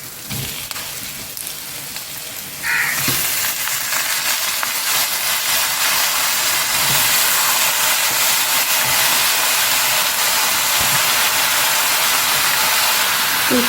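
Raw chicken, a kilo of washed pieces, goes into a hot masala pan for chicken fry, bursting into a loud, steady sizzle after a quieter start and continuing alone without talk.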